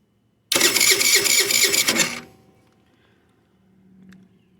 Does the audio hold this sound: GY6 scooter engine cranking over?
yes